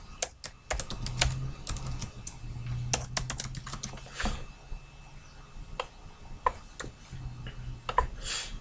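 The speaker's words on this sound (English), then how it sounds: "I'm simply gonna type a list of items." Computer keyboard typing out a list of items, with irregular bursts of close, crisp keystrokes separated by short pauses and a faint low hum underneath.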